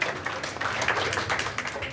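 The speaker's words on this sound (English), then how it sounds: "I want a round of applause" A comedy club audience gives a round of applause, steady dense clapping filling the room, fairly loud and continuous with no voices over it.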